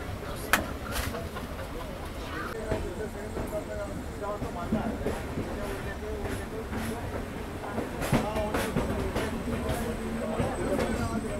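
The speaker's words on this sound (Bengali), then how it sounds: "ট্রেন আমাদের ছেড়ে দিল বর্ধমান জাংশন রেলওয়ে স্টেশন থেকে" The Darjeeling Mail rolls along after pulling out of Bardhaman Junction, heard from inside a general-class coach as a steady rumble with intermittent rail clacks and knocks, people talking faintly in the carriage.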